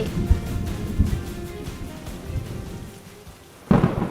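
Cartoon thunderstorm with rain, a steady rushing downpour with low thumping rumbles of thunder, ending in a sudden louder crack near the close.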